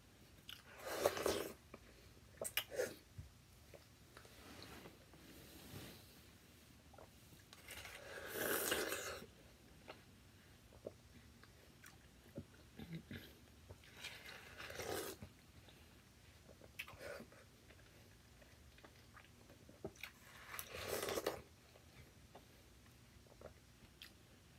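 Watermelon being bitten and chewed close to the mic in bursts of wet crunching, several distinct bites separated by quieter chewing and pauses.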